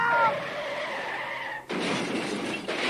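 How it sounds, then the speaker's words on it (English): Cars skid with a long tire screech, then a sudden crash with scattered debris follows, loud and close, as a sound effect. "There was the sound of cars crashing together."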